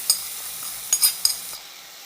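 Hot fried tempering poured into a tomato prawn curry with the gas switched off, giving a few brief sharp sizzling bursts and a clink of utensils, then fading to quiet hiss.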